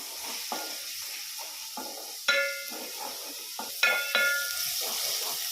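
A quiet, continuous sizzle of ginger garlic paste frying in a pan, punctuated by occasional scrapes and clinks of a spoon stirring against metal.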